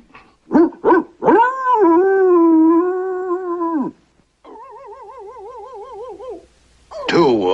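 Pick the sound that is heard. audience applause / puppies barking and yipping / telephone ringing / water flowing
puppies barking and yipping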